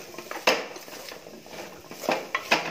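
Pumpkin sautéing in a pan for Tamil-style pumpkin sambar: a spoon or spatula scrapes and clinks against the metal pan in irregular strokes, close and moderately quiet, with no voices.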